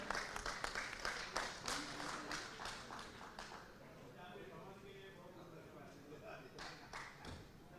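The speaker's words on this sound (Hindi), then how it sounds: "एक बार जोरदार तालियों के साथ स्वागत" Audience applause welcoming a speaker onto the stage at a Faridabad public event in India, a burst of claps at the start that fades into a lighter, steady patter, with voices talking underneath.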